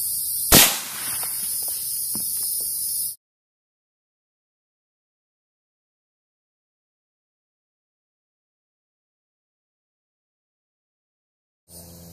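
A Huntertown Arms Kestrel 7.62 fires a single loud, close shot into a plexiglass block, a sharp crack over steady background noise, followed by abrupt silence.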